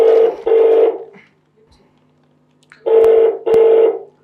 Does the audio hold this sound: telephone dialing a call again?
yes